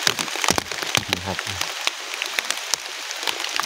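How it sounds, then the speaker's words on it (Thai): Rain falls steadily through a forest where wild mushrooms are being gathered near Ban Bok, Buntharik, Ubon Ratchathani, with dense close patter and sharp drips. Someone speaks briefly over it. "โอ้ยฝนตกพี่น้องถ่ายคลิปก็บ่ได้ถ่ายเนาะครับเนาะ"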